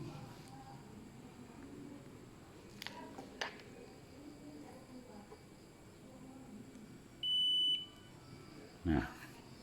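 A multimeter gives a short, high continuity beep while an adapter cable is being tested, a brief tone in a quiet room, followed by a second faint chirp a moment later.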